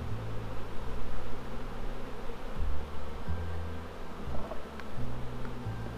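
Honeybees from a very strong hive buzz steadily around the open colony during a spring inspection, a dense continuous drone close by with no voices.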